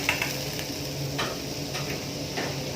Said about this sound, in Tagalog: Gisa natin ng butter, harina, at yung ating saffron.